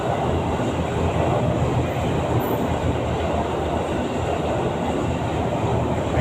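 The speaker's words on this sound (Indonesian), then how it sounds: "Ada kereta lewat" A train rumbles past at close range in a continuous, steady roar of wheels and rail noise, loud and unbroken throughout with no voices over it.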